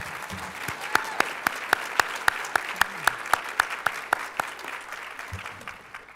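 Clapping for the 2018 graduating class at a university communication department graduation, heard as a steady, evenly spaced run of sharp claps over a soft crowd murmur, moderately close, fading out near the end.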